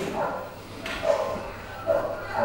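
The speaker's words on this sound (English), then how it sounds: "There's a dog barking." A dog gives a few short yips and barks at moderate distance, spaced about a second apart over a low steady background hum.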